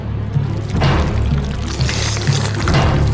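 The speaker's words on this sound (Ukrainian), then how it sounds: "Тепер виливаємо все прямо в рот." Jelly poured straight into the mouth, a close, wet glugging and slurping stream with soft squishy pulses repeating over a few seconds, with no talking.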